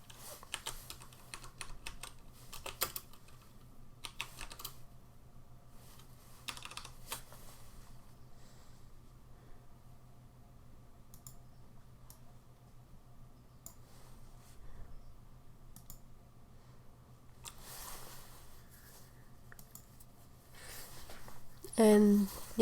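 Keys tapped on a computer keyboard in short scattered bursts, fairly close and soft, with a low steady hum underneath and a brief sharper sound at the end.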